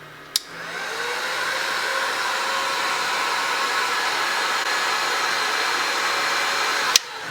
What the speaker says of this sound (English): I'm just going to put the heat gun on low and just kind of work around the corners